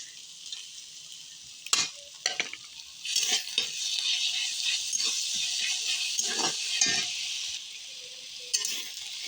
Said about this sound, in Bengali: এবার আমি এতে অ্যাড করব বেটে রাখা রসুন বাটা আর লঙ্কা বাটা